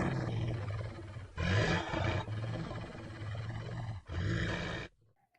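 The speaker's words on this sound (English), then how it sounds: "He thought he heard a growl come from the woods." A deep, sustained wolf growl rumbles from the woods at night, loud and continuous with brief breaks between swells before it cuts off.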